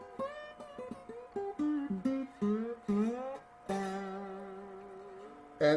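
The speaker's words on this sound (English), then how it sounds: "I'm only playing this string, but I'm holding the other ones down." Slide guitar picked on a single string while the other strings are palm-dampened, giving short, clipped notes with gliding pitch bends and a few longer sliding phrases, played close and alone.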